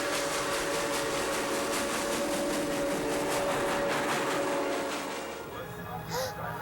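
A historic steam locomotive, running between Los Angeles Union Station and San Diego, rolls past on the tracks with a rhythmic, chugging rumble that stays loud and steady before easing off; a voice can be heard faintly underneath.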